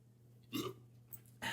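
A person burps after sipping Pepsi, giving a few short, low, throaty bursts close up against a quiet, faintly humming room.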